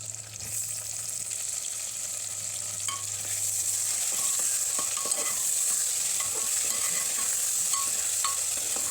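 A pan of frying food for egg biryani sizzles steadily at close range, with occasional scraping stir sounds and a faint hum under the constant hiss, and no talking.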